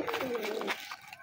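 A homing pigeon back at its loft gives a short, soft coo, faint and close, with light rustling around it.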